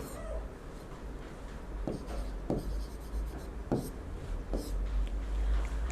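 Marker or chalk writing on a board during a Class 9 physics lesson on motion, giving several short, separate scratchy strokes over a steady low hum in a quiet room.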